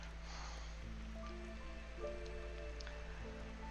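Light drizzle in Against the Storm patters softly and steadily, a faint hiss of raindrops over a low constant ambient hum, with small tonal game chimes drifting through.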